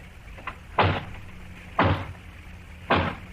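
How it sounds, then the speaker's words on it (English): Three hollow knocks on a front door, a radio drama sound effect, land at a steady, evenly spaced pace, each a sharp close thud with a short decay. "And then there's the hollow knock on the front door."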